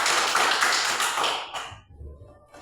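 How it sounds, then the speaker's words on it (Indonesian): Elementary schoolchildren clap their hands in a short, lively burst of applause in a classroom, fairly close, which fades out abruptly after about a second and a half. "tepuk tangan dulu kita"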